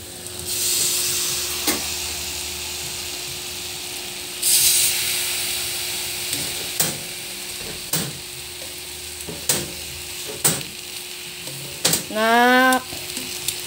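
Saba bananas frying in hot oil make a steady sizzling hiss throughout, with occasional clinks and scrapes of stirring and a short squeaky sound near the end.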